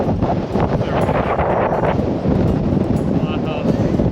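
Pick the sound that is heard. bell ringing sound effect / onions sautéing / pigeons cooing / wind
wind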